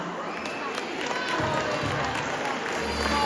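Crowd applause for winners of a Carnival Tuesday costume contest in O Grove, clapping that swells from moderate to fuller with some cheering mixed in, near and lively over a short stretch.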